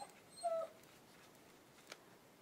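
A puppy gives one short, high whimper near the start, followed by a faint little yip a moment later, against a quiet indoor background.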